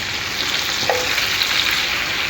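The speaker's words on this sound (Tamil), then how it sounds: "எண்ணெய் ஊற்றிட்டு பூண்டை போடுவோம். அதில் பூண்டு கொஞ்சம் நல்லா வேகட்டும்." Garlic frying in oil on a hot tawa, a steady close sizzle and crackle with a faint stir scrape, no voices.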